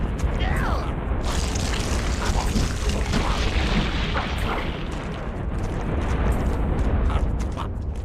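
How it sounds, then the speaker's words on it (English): A game structure, the imp generator in Tak 2, is destroyed with a deep rumbling boom over busy game noise, the blast spreading through a continuous dense wash of effects. "Oh, destroyed the imp generator."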